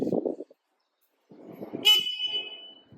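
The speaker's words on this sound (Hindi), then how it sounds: "हम एक बार हॉर्न सुना के देखते हैं कैसा है," A Honda motorcycle's dual horn blares once, a loud bright honk held for about a second, after a short low rumble.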